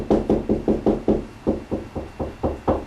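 Knuckles rap on a bathroom ceiling while searching for a joist, about a dozen close, dull knocks in a steady rhythm, heard alone with no talk.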